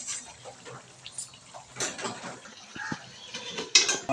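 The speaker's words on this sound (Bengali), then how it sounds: "আবার মাংস কষানো হচ্ছে ভালো করে" Meat sautéing in a pot, with soft scraping and clinking of a utensil against the metal and faint sizzling, intermittent and fairly quiet, close by with no talking.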